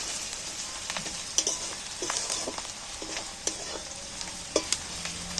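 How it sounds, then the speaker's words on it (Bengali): Onion, chili and turmeric frying together in oil, a steady close sizzle broken by repeated stirring scrapes and small clinks of a spoon against the pan. "সেইটাকেও আমি একটু নেড়ে চেড়ে তেলটার মধ্যে ভেজে নিচ্ছি পেঁয়াজের সাথে একসাথে"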